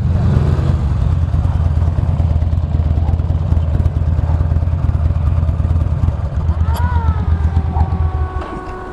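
Two 2009 Buell Lightning Long XB12SS motorcycles pulling out together, giving a loud, close, throbbing engine rumble mixed with wind noise and clatter that fades near the end, where a brief high squeak is heard.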